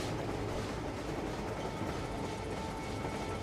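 An automated train running in the video game Crimson Desert, a steady, fairly quiet rolling rumble with faint mechanical rattling that carries on evenly and alone, with no speech.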